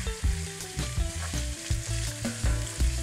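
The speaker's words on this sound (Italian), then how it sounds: "Facciamo rosolare anche un po' la pancetta insieme alla cipolla." Pancetta and onion fry together in a pan with a lively, close sizzle, interrupted by repeated stirring clatters and scrapes.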